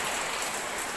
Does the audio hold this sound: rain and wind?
yes